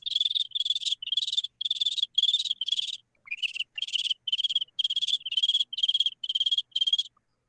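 A person mimics cricket chirping with the voice, a steady series of about a dozen shrill, evenly spaced trilled pulses with a short break midway, close and clear with no other sound.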